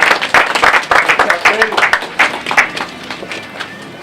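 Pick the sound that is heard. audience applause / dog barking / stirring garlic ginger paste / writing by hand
audience applause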